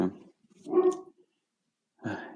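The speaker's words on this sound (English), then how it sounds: "Ignore the dogs downstairs." Several dogs barking downstairs in a house, a few muffled, somewhat distant barks in short bursts separated by silence.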